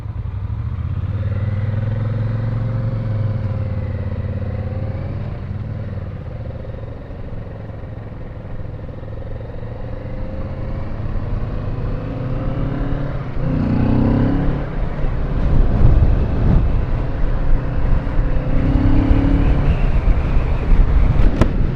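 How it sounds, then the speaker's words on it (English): A car engine hums steadily while driving, with wind and road noise rising in the second half as the vehicle picks up speed. "It's a smooth engine, to be sure."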